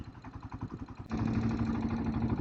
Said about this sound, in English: Just idling in third gear.